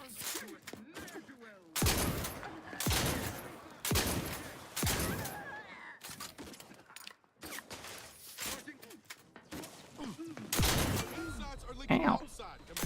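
Gunfire in a space-themed video game: sharp bursts of shots in separate volleys, loud and close, mixed with mechanical creaks and clanks and some voice sounds between shots.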